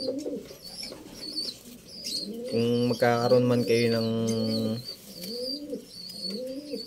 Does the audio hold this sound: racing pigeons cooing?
yes